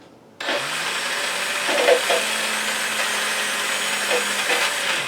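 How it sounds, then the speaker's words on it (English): Model tank's track sound from a TPA sound amplifier, a steady mechanical whirring and clattering hum that starts abruptly and then runs continuously at even level, with no engine rumble and no voices. "now that track noise that you hear is part of the secondary sounds"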